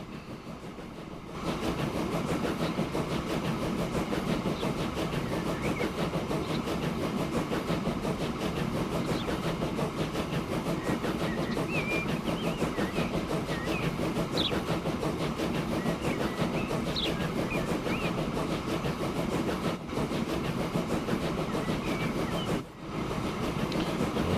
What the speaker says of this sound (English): there's our train coming out of the depot there